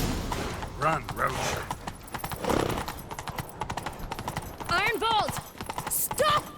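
Rapid hoofbeats of galloping horses drive beneath shouting voices and a horse's whinny, with busy game-style action sounds throughout, in The Witcher 3: Wild Hunt.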